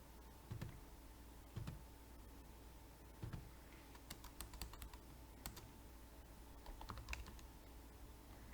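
A computer keyboard clicked at a quiet, steady level, with scattered single keystrokes and small clusters of quick taps over a faint electrical hum, with no talk.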